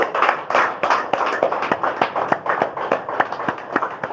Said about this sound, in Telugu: ముందుగా అద్భుతమైన ఈ ధ్యానానికి ఒక్కసారి గట్టిగా చప్పట్లు కొడదాం